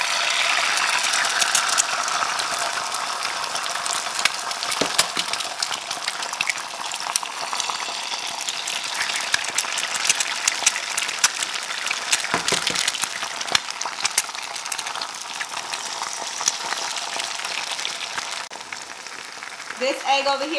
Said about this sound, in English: I'm adding in a little bit of olive oil. I'm gonna make some over easy eggs.